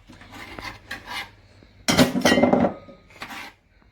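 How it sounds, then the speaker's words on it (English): Knife chopping beetroot into a bowl for Jamaican beetroot and carrot juice, a few scattered cuts followed by a louder burst of clattering blade-on-bowl contact, then a couple more light knocks. "Let's chop this one a bit smaller. I'm going to chop this one into the bowl."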